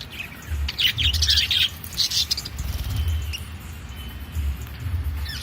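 Several budgie chicks chirp and peep in close, busy bursts, a soft low rumble running underneath, with no talking.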